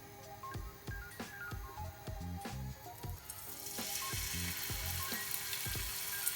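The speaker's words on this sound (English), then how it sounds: "I'm going to cook the lamb chops" Lamb chops frying in a pan over medium heat sizzle in a soft, continuous hiss beneath rhythmic background music with plucked tones and beats, the sizzle growing slightly fuller toward the end.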